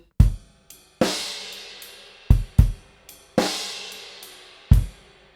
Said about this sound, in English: Okay, so those crash cymbals just really accentuate that backbeat.